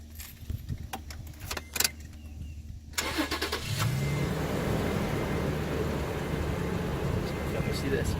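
A 2015 Toyota Tacoma TRD Offroad cranks and its engine starts, then settles into a steady idle close by. Keys jangle and a person speaks before the ignition.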